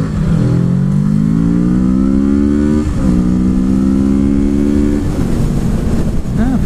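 A 2019 Kawasaki Z650 middleweight twin with a 6-speed gearbox pulls hard and loud, its engine note climbing in steady sweeps that drop sharply at each upshift, with two crisp gear changes heard in succession.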